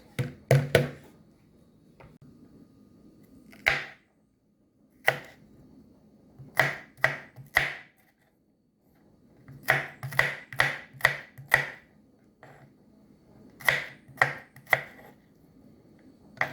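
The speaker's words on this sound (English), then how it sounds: "So I just gonna beat this and pound it." Ginger pounded and mashed in a pot while cooking a Jamaican breakfast: sharp, close thuds in irregular clusters with quiet gaps between them.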